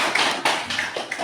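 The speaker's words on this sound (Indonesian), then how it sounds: "Oke, tepuk tangan untuk kelompok 3." A classroom group claps for group 3, a dense run of quick, close hand claps with a few sharper accents, fairly loud and without speech.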